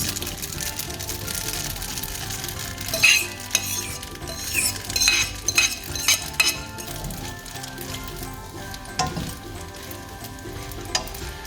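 Carbonara egg sauce and bacon being stirred through pasta in a hot pan gives a steady sizzle, with spoon scrapes and light clinks of utensil against the pan throughout.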